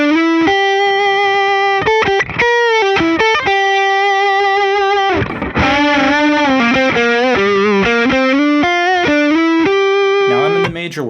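Electric guitar with heavy distortion plays a major pentatonic scale in quick melodic runs, bends and held notes, loud and close, with no talking over it.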